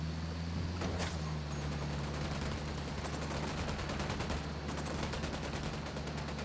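Sustained full-auto rifle fire in the video game Ghost Recon Wildlands, rapid shots running without a break over a low steady rumble, loud and close throughout.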